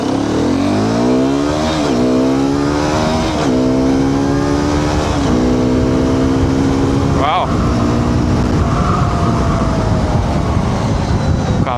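A Hero Xpulse 210 dual-sport motorcycle accelerating hard, its engine note climbing through several gear changes in a loud, close, continuous run.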